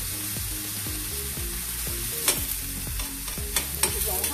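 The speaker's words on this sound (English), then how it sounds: "what we're doing now is just breaking down the onion" Chopped onion sizzles in a hot pan on high heat, with a steady hiss under repeated scraping strokes of a spoon and a few sharper clinks against the pan.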